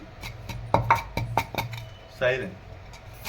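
Lightly roasted spices pounded for a head-meat curry in a home kitchen: a run of sharp, metallic knocks at an uneven beat, close and clear, with people talking in Telugu alongside.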